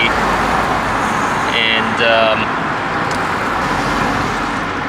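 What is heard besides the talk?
BMW E60 car driving on the road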